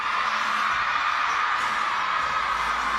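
A dense, roaring crowd noise fills the space continuously, loud and unbroken, an arena full of people cheering at once at a table tennis women's singles final.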